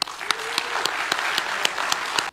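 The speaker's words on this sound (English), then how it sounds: "Join me in clapping" A congregation claps in thanks at a church gathering, a dense sustained round of applause with sharper individual claps standing out, holding steady at close range before stopping abruptly.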